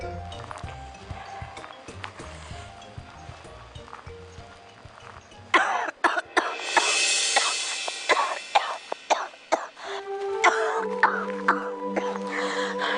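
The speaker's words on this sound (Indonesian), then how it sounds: "batuk saya kok nggak sembuh-sembuh ya Allah" Several harsh coughs break out mid-clip, close and loud, amid rustling and thumping noises, with a low background hum near the end.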